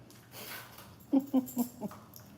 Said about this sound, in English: Watch the dog spaz out.